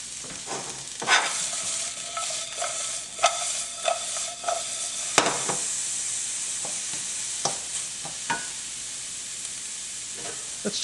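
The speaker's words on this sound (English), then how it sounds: "Now comes my onions. I've got these stir-fry sliced onions." Sliced onions sizzling in sesame oil in a pan, stirred now and then with sharp utensil scrapes and clacks over a steady close hiss, with no talk.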